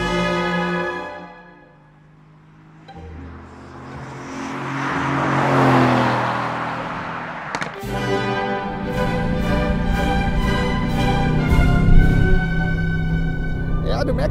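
A Mercedes-AMG GT picks up speed on the Bilster Berg circuit, with its engine droning, swelling and then rising through the revs, while people talk over it inside the car.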